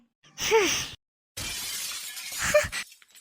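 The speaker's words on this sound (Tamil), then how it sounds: "உப்பு உப்பு டப்பாவா? இது எப்படி கீழே விழுந்து உடைஞ்சது?" In a cartoon, a salt jar falls and shatters. Two sharp bursts of breaking glass are separated by a short silence, and the second crash trails into scattering clatter.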